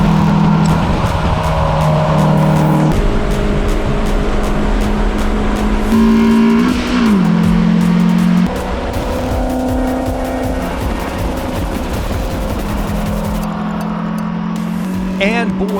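A Toyota Yaris race car laps the Big Willow circuit, its engine droning loudly and close with repeated upshifts and sustained high revs, pitch stepping up and down through gear changes along the run.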